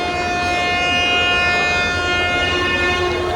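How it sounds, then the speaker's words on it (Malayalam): A locomotive horn on a departing passenger train at a tree-lined railway station sounds as one long, loud, steady sustained blast that holds through the whole stretch, with rumbling train noise underneath. "ലോക്കോ പൈലറ്റ് ഹോൺ അടിച്ചിട്ടുണ്ട്"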